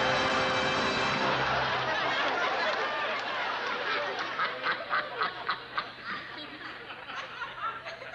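Rapid, nasal duck quacks come in a quick rhythmic burst after a loud opening wash of sound at a David Copperfield magic show, close and clear, then fading into softer chatter.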